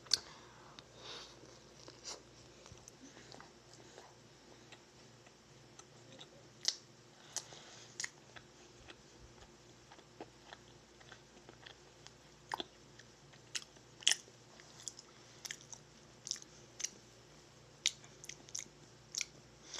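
Crisp bites and chewing of a strawberry-flavoured Dunkin' donut, with scattered close crunchy clicks and snaps over a quiet background, no talking.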